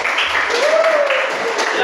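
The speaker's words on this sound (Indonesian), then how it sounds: "berikan tepuk tangan kepada kelompok 3" Classroom applause for a student group is a steady patter of clapping throughout. A brief voice-like tone rises and falls partway through.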